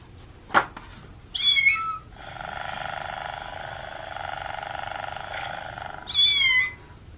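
A cat meows a few times, close and clear, with one long drawn-out wailing meow between shorter calls over a quiet background, after a single sharp click.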